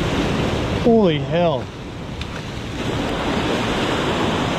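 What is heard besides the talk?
ocean waves surging against a jetty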